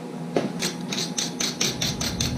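Wire brush scrubbing rusty axle splines, a steady run of rapid, rasping back-and-forth strokes in an even rhythm, close up and fairly loud with no talking.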